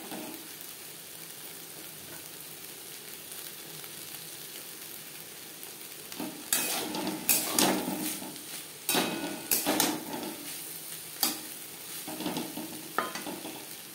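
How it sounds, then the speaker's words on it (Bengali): Teasel gourd tossed with grated coconut in a pan over high-to-medium flame, a low steady sizzle broken by repeated loud scrapes and clatters of a spatula stirring, with no talking. "হাই টু মিডিয়াম ফ্লেমে 3-4 মিনিট নাড়াচাড়া করে নেব।"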